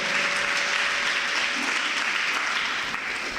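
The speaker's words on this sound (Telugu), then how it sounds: "గట్టిగా చప్పట్లు కొట్టి గట్టిగా దేవుని మహిమ గట్టిగా కొడదాం" A church congregation claps loudly together, a thick, unbroken roar of hands sustained at full strength for several seconds.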